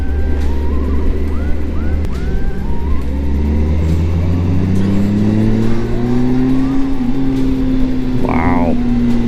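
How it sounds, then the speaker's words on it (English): Engine of a 2011 Kawasaki Concours 14 sport-touring motorcycle running steadily on the road, a smooth low drone that rises gently in pitch as it accelerates, with wind noise throughout and a brief higher whine near the end. "I'm just impressed with how smooth the engine is."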